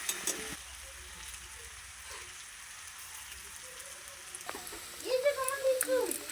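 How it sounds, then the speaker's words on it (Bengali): Onion and garlic paste fries in a pan with a soft, steady sizzle heard close but quiet. A voice talks briefly near the end. "এর মধ্যে আমি রসুন বাটাটাও দিয়ে দেব, দিয়ে ভালো করে একটু ভেজে নেব।"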